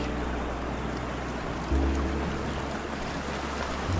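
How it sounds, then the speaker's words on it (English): Hell Roaring Creek in the Sawtooth Wilderness, a mountain stream beside a marshy meadow near Hell Roaring Lake, gives a steady broadband rushing wash of flowing water, close and constant with no talk. "Hell Roaring Creek right here."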